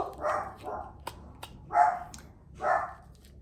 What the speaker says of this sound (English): I'm so sorry about the barking, guys.